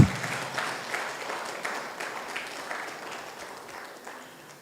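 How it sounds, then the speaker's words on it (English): An audience at a university data science programme launch claps for a speaker, moderately loud scattered applause that fades gradually over a few seconds. "so can we please clap for him again?"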